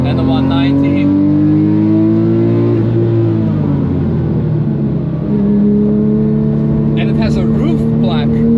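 Wide Porsche 997 GT3 RS with a big exhaust on the Nürburgring, a loud sustained engine drone with shifting pitch as it passes close by, people talking over it.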